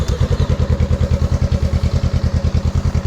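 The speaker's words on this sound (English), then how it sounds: "This is the Radiant Cycle Shorty GP on the Honda Rebel 500." A Honda Rebel 500 fitted with a Radiant Cycle Shorty GP exhaust, baffle installed, idles close by with a steady, loud, evenly pulsing thump and no voices.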